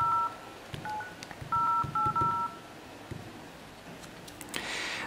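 An LG G3 smartphone dials a toll-free number, sounding a series of clear keypad tones in short bursts and quick pairs, then a brief noisy rush at the end.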